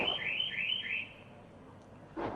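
A car alarm goes off outdoors, heard from inside as a loud, repeating electronic warble cycling through several pulses before a short pause, then sounding again.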